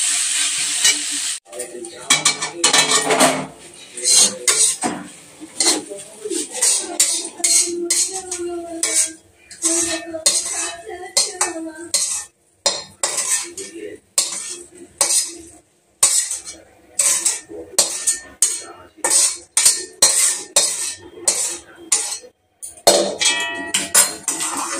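Fried okra being lifted off a stove, with a steady close sizzle of frying under repeated clinks and scrapes of a metal utensil against the pan that come in quick bursts with brief pauses.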